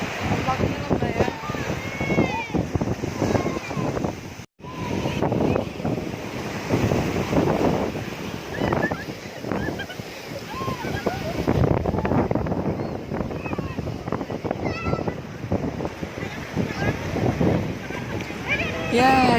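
Big waves rolling onto the beach at Pantai Gesing in Gunung Kidul, Yogyakarta, make a steady roar of surf, heavily buffeted by wind gusting across the microphone, with voices talking over it.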